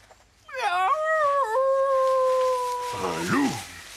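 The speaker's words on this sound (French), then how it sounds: "Un loup." A cartoon wolf gives a long, sustained howl with a wavering pitch that holds steady before sliding down, then a short yelping whine at the end.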